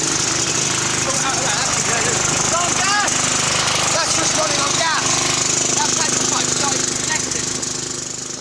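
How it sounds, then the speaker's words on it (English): Small lawn mower engine running on methane gas fed directly into it instead of petrol, a loud continuous buzzing drone with rattling mechanical texture, close up and steady before easing off slightly at the end. "The lawnmower runs on methane, which means it should run on biogas."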